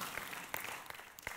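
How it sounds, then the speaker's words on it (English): A church congregation claps for a St. Louis mission trip, scattered hand claps sounding faintly and unevenly, with a few sharper individual claps standing out. "You can go ahead and clap."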